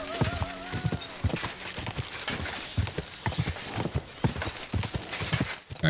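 Galloping hooves of the fast horse Pebbles in Kingdom Come Deliverance 2 drum in a quick steady clip-clop throughout, loud and close, with a brief whinny near the start and no talking.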